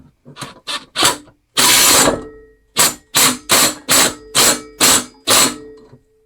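A ratchet wrench clicks in quick bursts as it tightens a part on a Mastercraft lawnmower engine, with one longer whirring run followed by a steady series of loud, separate ratcheting pulls.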